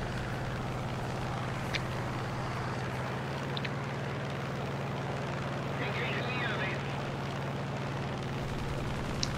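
A P-51 fighter plane in the War Thunder video game drones steadily, its engine a constant low hum at an even level throughout.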